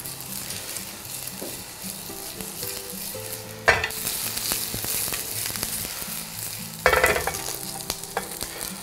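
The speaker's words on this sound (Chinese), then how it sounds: "别急，中小火慢慢去煎。" An egg pancake with vegetables fries in a pan over medium-low heat, giving a continuous gentle sizzle with two brief louder clatters of the pan or spatula partway through, and no talk.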